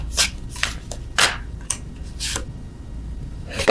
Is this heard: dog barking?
no